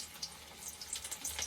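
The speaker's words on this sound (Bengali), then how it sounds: "এখন আমি পকোড়ি দেবো।" Pakora batter dropped into hot oil crackles and spits briefly, a faint, close sputtering with small pops.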